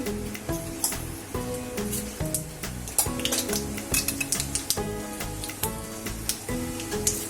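Mustard seeds go into hot oil in a pan for a capsicum and gram flour dish, a close sizzle broken by many sharp crackling pops and a few metallic clinks of utensils against the pan.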